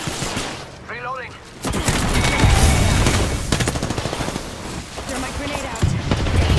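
Video game firefight with rapid automatic gunfire, loud bursts of machine-gun rattle and shots repeating through the scene, with voices calling out briefly near the start and end.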